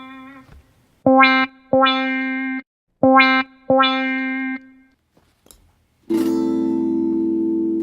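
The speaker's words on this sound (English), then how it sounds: "It is called a wah-wah pedal because it makes a sound that sounds like its name" An electric guitar through a wah-wah pedal plays four separate notes, each swept with a vocal-like wah, followed by a long sustained distorted note, clear and close with short pauses between.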